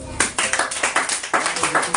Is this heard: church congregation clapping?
yes